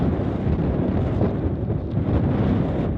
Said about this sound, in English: So you'll hear the wind.